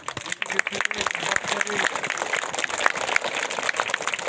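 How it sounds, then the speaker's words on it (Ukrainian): Children applauding at a tournament awards ceremony, a lively sustained patter of many small hands clapping, close and fairly loud, with voices mixed in. "хочемо щоб один одного привітали усім аплодисментами."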